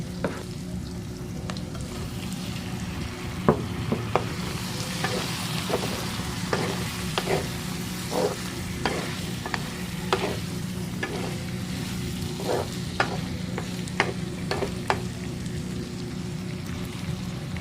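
Chicken fries in a pan with a constant close sizzle, while a utensil stirs it in scattered scrapes and clinks.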